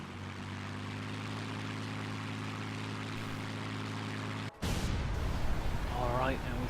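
A Bf 109F fighter plane's propeller engine drones in a video game, a steady low harmonic hum that cuts off abruptly, followed by a louder, rougher burst of noise with a rising whine.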